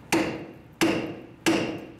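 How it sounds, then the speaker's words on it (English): Three close, sharp metallic hammer strikes, evenly spaced, each ringing briefly as a tie rod end is knocked out of the front strut bracket of a 2003-2011 Honda Element. "So we're just gonna use a hammer."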